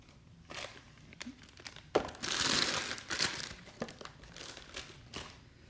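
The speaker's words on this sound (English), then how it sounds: "But we'll cut a lump off." A lump cut from a block of cake decorating paste, a few soft crinkles and thuds followed by a longer crackly rustle of wrapping, quiet and close, with no talk.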